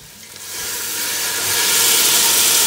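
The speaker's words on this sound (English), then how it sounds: "I want to deglaze at this stage" A hot pan hisses as a couple of tablespoons of liquid go in to deglaze it while cooking chicken for barley soup, a bright steamy hiss swelling up and staying loud and close.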